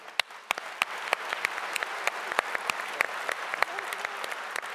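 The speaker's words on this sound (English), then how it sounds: "How about a big round of applause for him?" Keynote audience applauding steadily for nearly five seconds, a dense wash of clapping with sharper individual claps standing out near the microphone.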